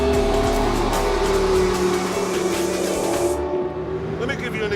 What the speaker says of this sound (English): the car is working on ways of going even faster.